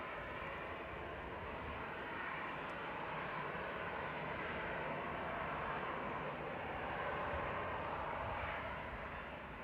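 A departing Helvetic Airways plane gives a faint, steady engine rumble at some distance, with no voices.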